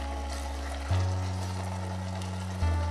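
Potatoes fry in butter in a pan with a steady, moderate sizzle and crackle, accompanied by a low continuous hum that briefly cuts out and returns twice.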